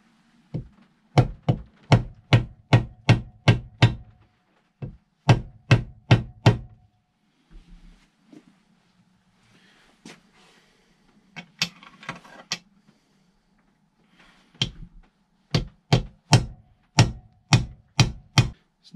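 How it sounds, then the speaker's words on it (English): A hammer drives the swing arm of a Triumph Speed Triple motorcycle back into place during a bearing refit. Sharp metallic blows come in rapid rhythmic runs of five to eight, with pauses and some lighter tapping between, close and loud. "This is going to have to be the hammer."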